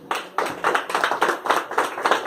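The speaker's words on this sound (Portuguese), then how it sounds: "louvando a Deus com as palmas bem fortes para Jesus" A church congregation clapping hands hard and in unison in worship, a fast, even beat of sharp, loud claps with no speech over it.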